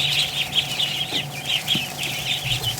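Tiny Muscovy ducklings piled together under heat lamps in a brooder peep constantly in fast, high, overlapping chirps, a close and busy chorus with no talking.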